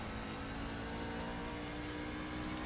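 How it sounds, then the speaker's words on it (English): Simulated race car engine droning at Bristol Motor Speedway in the iRacing video game, a steady continuous hum at moderate, slightly distant level with no talk over it. "Just listen to the engine,"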